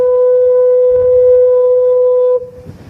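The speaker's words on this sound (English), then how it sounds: "its foghorn sounds like this" Lizard Lighthouse foghorn in Cornwall sounding one long, steady, deep blast that holds for over two seconds before cutting off, loud and dominant, followed by a faint fading tail.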